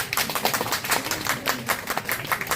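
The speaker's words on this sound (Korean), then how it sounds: "여러분 큰 박수 부탁드리겠습니다" An audience applauds at an art fair, a steady patter of many hands clapping, fairly loud and close, with no speech over it.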